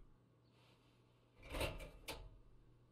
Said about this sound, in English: Open drawer.